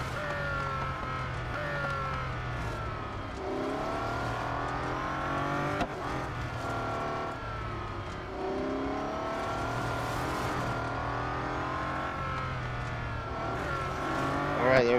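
Bugatti Centodieci race car in Real Racing 3, its engine droning steadily with rising and falling revs through gear changes on a lap, continuous and fairly loud.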